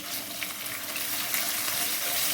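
A tablespoon of crushed garlic sizzles in a hot pan for a pulao, a soft, steady frying hiss that holds evenly for a couple of seconds with no talking.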